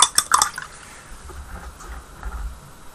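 A paint brush used on miniatures is swished and tapped in a small water pot, giving a few sharp clinks and splashes at the start, then faint trickling and sloshing, close and quiet with no talking.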